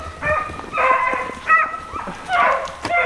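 A rabbit-hunting dog in a Louisiana swamp gives a rapid series of about five loud, close, high-pitched yelping barks in quick succession.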